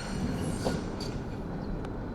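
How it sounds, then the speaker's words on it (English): A London tram rolls along the rails near a canal-side street, a quiet low rumble with faint wheel squeal and clatter, steady and somewhat distant. "We've got a tram right there."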